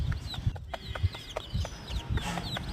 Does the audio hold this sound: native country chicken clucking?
yes